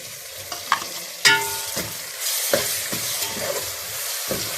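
Tomatoes dropped into a pan of frying chicken qurma and stirred, with clinks and scrapes of a spoon over a soft sizzle, close and intermittent.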